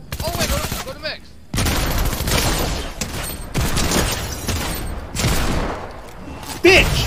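Video game gunfire erupts in repeated bursts of rapid shots and booms, loud and close, with people talking over the action between volleys.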